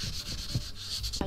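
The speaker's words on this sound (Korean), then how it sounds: "항상 사포하실 때는 조심히 해주세요" Sandpaper rubs back and forth over a hardened paper-clay incense holder, making a series of quick, close, scratchy strokes in a steady rhythm, with no voices.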